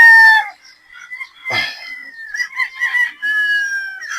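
Battle stag roosters crow close by, several overlapping cock-a-doodle-doos with clucks between them, loud and clear with no talk.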